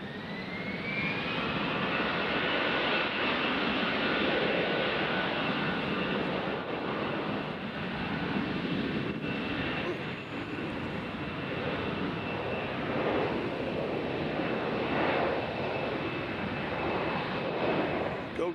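A jet airliner takes off at Nashville airport, its engines a loud sustained roar with a steady whine riding on top, swelling and holding for the whole stretch with no talk over it.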